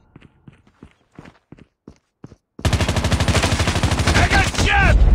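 Gunfire in a shooter video game: a few scattered, faint shots and footsteps at first, then a dense, loud burst of rapid automatic fire that runs without pause to the end.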